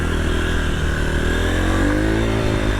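A dirt bike engine revs through a restricted factory exhaust, a steady, loud mid-pitched drone with rising revs and a slight mechanical clatter, alone without talk.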